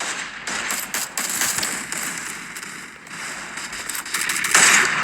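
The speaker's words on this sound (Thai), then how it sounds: "เดี๋ยวเดี๋ยวได้เสียงปืนข้างหลังเลยนะ" Gunfire in the Free Fire video game crackles in dense, rapid bursts of shots for several seconds, fairly loud and continuous with brief lulls.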